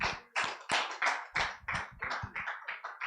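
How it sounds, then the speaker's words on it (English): A conference audience claps at a property investment event, with a handful of close, sharp claps arriving in an uneven rhythm that thins toward the end. "I think they deserve a more resounding applause"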